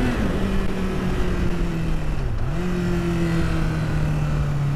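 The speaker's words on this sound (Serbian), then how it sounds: "Uf, kako se lepo čuje ovaj motor." A Yamaha motorcycle engine hums steadily while being ridden through town, its pitch dipping briefly mid-way as the rider eases off, then settling back into a continuous close drone with no voices.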